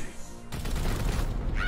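Gunfire in the turn-based strategy game Warhammer 40,000: Chaos Gate - Daemonhunters: a sudden loud burst of shots erupts after a quieter musical opening, rumbling and crackling close up until a bright tone rises at the end.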